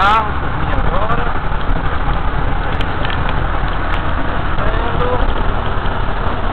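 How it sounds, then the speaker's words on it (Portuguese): A car's engine drones loudly and steadily on a mountain road descending the Portalegre range, a close, continuous rumble with road noise that stays even throughout rather than swelling and fading as a distinct pass-by. "Vai passar um carro por mim agora."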